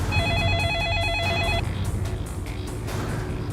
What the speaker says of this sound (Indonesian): Roy langsung telepon Tante Naomi-nya aja ya